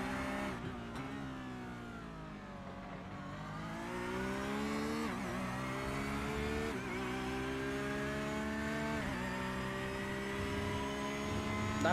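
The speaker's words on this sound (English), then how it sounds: "That Porsche engine is not singing as it was before." A Porsche GT3 race car engine in a sim racing game drones continuously for the whole stretch, its pitch gradually rising through harmonic sweeps with small dips at gear changes, steady and close with no talk.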